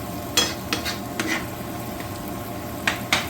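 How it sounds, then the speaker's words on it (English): Ingredients stirred together in a pan over low to medium heat, a few scattered scraping strokes of a utensil over a faint, steady sizzle, with no voices. "Mixing them all together."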